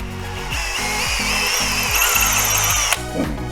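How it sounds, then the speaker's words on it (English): Cordless power drill pre-drilling holes for window blind brackets, a loud steady whine with rhythmic pulsing as the bit bites, ending in a brief clatter. "we need to pre-drill the 2 holes that are going to go up here"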